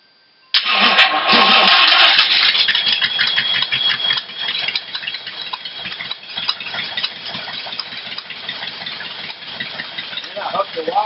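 A rat rod roadster engine cranks briefly, then catches and runs with a loud, steady, rough idle that continues to the end.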